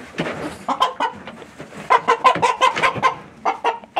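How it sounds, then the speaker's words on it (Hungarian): A speckled rooster clucks close by in a quick series of short, uneven calls, pausing briefly before another burst. "Nagyon szép kis kendermagos kakas"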